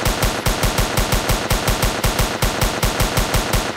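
Steady rapid automatic gunfire from a gun in a Roblox zombie wave game, loud and evenly spaced shots repeating without pause throughout, no talking.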